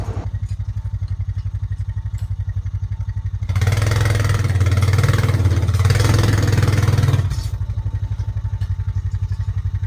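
A four-wheeler in four-wheel drive works a log arch through deep snow in sub-zero cold, its engine idling with a steady low pulse before revving hard for several seconds and then easing back to idle, close and loud with no talk.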